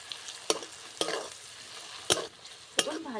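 A utensil scrapes and stirs spiced potatoes frying in a pan. Four or five distinct scrapes fall at irregular intervals over a soft sizzle, close but fairly quiet, and nobody speaks.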